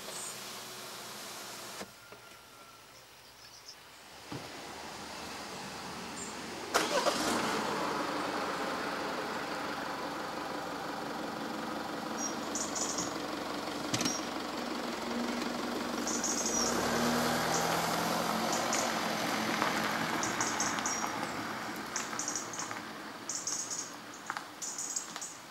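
A 2011 Peugeot 508 SW with a 2.2 HDi diesel engine runs with a steady low drone heard from inside the car, rising slightly partway through, with clicks and small thumps over it and no speech.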